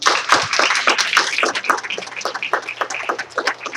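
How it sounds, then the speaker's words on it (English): An audience at a county school board meeting gives a round of applause, a close, lively patter of many hands clapping steadily throughout, tapering only slightly toward the end. "but I'm about to give you all a big round."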